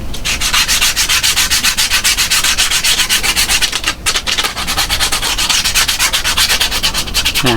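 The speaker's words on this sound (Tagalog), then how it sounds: "Ilihain natin." Sandpaper rubs hard against the midsole and outsole of a shoe being reglued, a loud, close, rasping scrape in fast, steady back-and-forth strokes that barely pause, with no voices.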